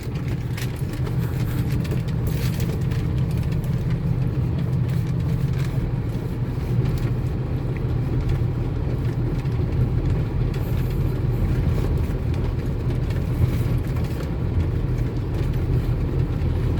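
A car engine drones loudly and steadily as it pulls in third gear, a dense low rumble that holds throughout with no pauses.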